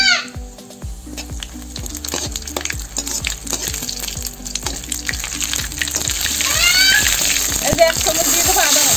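Dried red chillies and cumin seeds hit hot mustard oil in a wok, giving a loud, close crackling sizzle with sharp pops and clatter that builds steadily, with someone talking over it.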